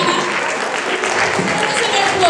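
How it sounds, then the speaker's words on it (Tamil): A crowd applauds at a Pongal festival gathering, a steady, dense wash of many hands clapping throughout, with some voices mixed in beneath. "உங்களுடைய பலத்த கரகோஷங்கள்"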